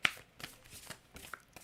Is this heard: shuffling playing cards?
yes